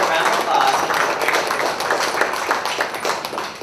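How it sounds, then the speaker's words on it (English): A press conference audience applauds the festival's newly introduced organizing team, a dense, sustained burst of many hands clapping at moderate loudness with slight murmuring underneath. "Let's give a round of applause."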